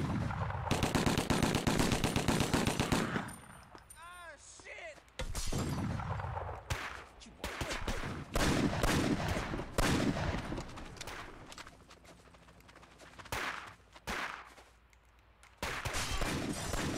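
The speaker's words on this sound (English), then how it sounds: "Returning fire." In the video game 25 To Life, a firefight fills the scene with dense bursts of automatic gunfire and single shots, loud and close, broken by brief lulls and ricochet-like pings.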